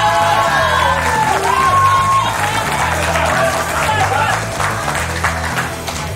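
A studio audience of fans at a reality show finale roars with loud, sustained cheering, clapping and whoops, with voices calling out throughout the crowd noise.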